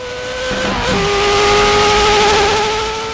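Ferrari F40 Competizione engine in a sim racing game, a loud, close roar that climbs steadily in pitch as it accelerates through a gear, with a raw, aggressive tone.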